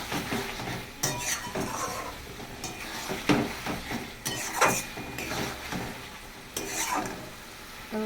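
Katla fish curry masala sautéed and stirred in a pan, with a steady sizzle under repeated scraping and clinking strokes of a spatula against the metal, close and fairly loud.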